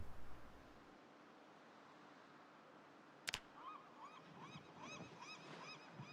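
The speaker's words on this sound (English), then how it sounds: "Why am I hearing seagulls out here in the middle of nowhere?" Seagulls calling in the video game Project Zomboid, a series of repeated cries after a sharp click, heard over a steady outdoor ambience of wind and surf-like noise.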